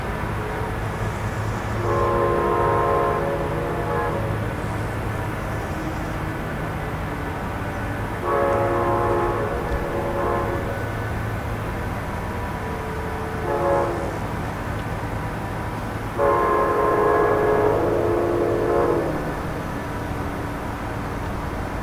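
A passing train sounds its horn at a series of road crossings, four long blasts spaced several seconds apart over a continuous rumble of rolling railcars, each blast fairly loud and the last one the strongest.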